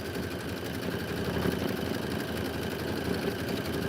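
An embroidery machine stitches a design in a steady, continuous mechanical whir with a fine rapid rhythmic texture, close and even throughout, with no voices.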